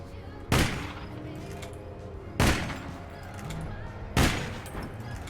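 Gunshots in an online shooter match, three sharp, loud single reports spaced about two seconds apart, each with a short ringing tail over a low steady background.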